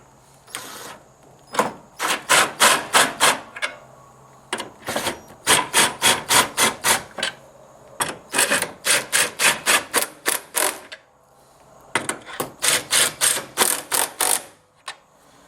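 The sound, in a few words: impact driver with deep well socket tightening a clamp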